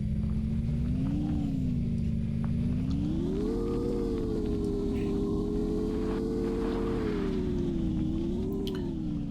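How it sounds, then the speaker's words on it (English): In Empyrion Galactic Survival, a motorbike engine drones steadily and close, its pitch rising and falling gently as the bike travels, with no break in the rumble. "To do that, we're going to go on the motorbike."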